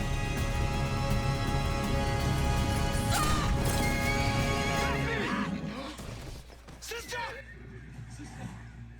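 A horse whinnies loudly amid clattering noise and busy background sound, with voices present; the din fades out toward the end.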